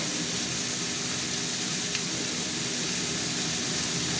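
Turmeric powder going into a sizzling Bengali fish curry with tomato, potato and mustard, giving a steady close hiss of frying oil that stays even and unbroken, with no talk.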